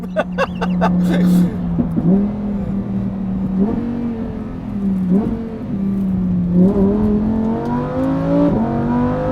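Lamborghini Huracan EVO on a race track, its engine droning steadily then dipping under braking and climbing again in repeated rising revs, with gear shifts breaking the pitch; loud and close throughout, continuous without pauses.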